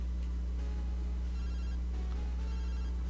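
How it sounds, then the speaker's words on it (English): A phone rings in the Pokemon Gold video game inside a lighthouse: a steady, continuous electronic ringtone over a constant low hum, with no voices. "I'm being harassed on my cell phone in a lighthouse."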